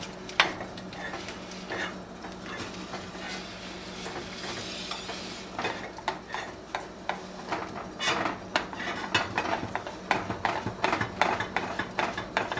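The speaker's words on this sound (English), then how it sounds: "We'll stir it to combine it" A spoon stirs melting chocolate chips in a metal double boiler, with repeated scraping and clinks against the pot at a steady, unhurried pace.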